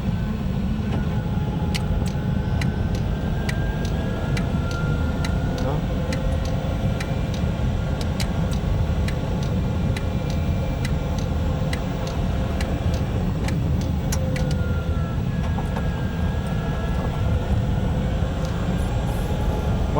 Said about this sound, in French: le bruit de la boîte est quand même relativement important